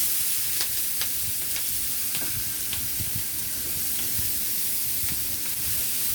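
Onions frying in oil with darkened curry powder, for curry cabbage, make a continuous hissing sizzle, close and steady, with a few light stirring taps and no voices.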